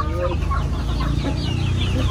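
Rhode Island Shamo chickens, a meat-breed cross, cluck and call continuously at close range in a poultry yard, with a dense layer of overlapping bird sounds and no speech.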